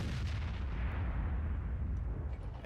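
A tank cannon fires in World of Tanks, a single deep booming blast whose heavy low rumble fills the short moment.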